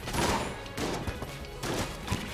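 Dense video-game gunfire with bouncing bullets forms a busy, crackling barrage, broken by several sharper bursts and impacts. The volume stays loud and steady throughout, with no voices.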